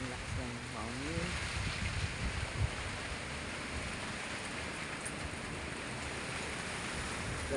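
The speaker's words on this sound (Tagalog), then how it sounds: "ang lakas ng hangin" Steady strong typhoon wind buffets the microphone in a constant roar, with a brief voice early on and faint outdoor rumble underneath.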